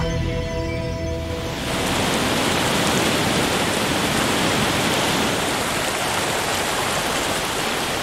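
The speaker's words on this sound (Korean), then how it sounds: "어디에서 물이 나오는 것인지 수천 미터의 산 위에서는 장엄한 폭포수가 장관을 이룬다." A waterfall high in the Andes mountains sends down a loud, steady rush of falling water that swells in after a brief tonal opening and then roars on unbroken.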